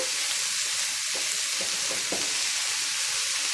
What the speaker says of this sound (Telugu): మంటను హైలోనే ఉంచి ఇట్లా వేయించుకున్నాము ఇది ఫ్రై కదా